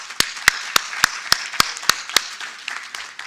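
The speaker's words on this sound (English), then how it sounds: "Another round of applause to all our men here in front." At a university men's conference, a round of applause comes through as sparse, evenly spaced sharp claps, roughly nine distinct hits about a third of a second apart, fairly close, fading into softer scattered claps at the end.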